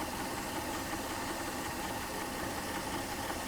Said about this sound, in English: The engine's running like crap, so we don't have a lot of vacuum